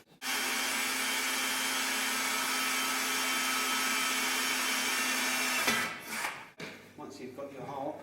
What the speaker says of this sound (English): I'm now going to drill some holes